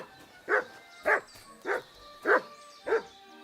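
A dog barks in the medieval video game Kingdom Come: Deliverance II, five evenly spaced, close, clear woofs in a steady rhythm, alone without talking.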